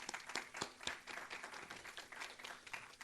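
Audience applause at a university Unity Week culture festival kickoff, a faint, distant patter of many hands clapping steadily for a few seconds.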